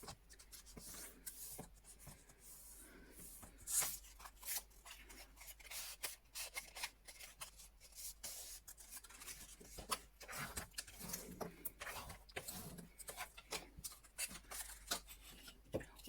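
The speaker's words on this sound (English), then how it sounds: "Why do we score it first?" Paper scored with a tool for an accordion journal base in a steampunk craft project, giving faint repeated rubbing and scraping strokes, close and quiet, in an irregular rhythm with no speech.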